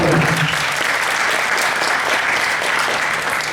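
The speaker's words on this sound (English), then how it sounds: "A round of applause for him." An audience gives a round of applause for a keynote speaker at a youth career development event, with loud, dense, continuous clapping throughout and no talk over it.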